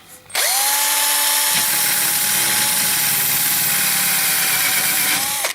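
A power drill whirs loudly and steadily for about five seconds on the door bottoms and frames of an FSO Polonez, its motor pitch shifting slightly as it starts, settles, and winds down.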